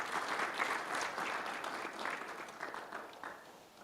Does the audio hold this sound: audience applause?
yes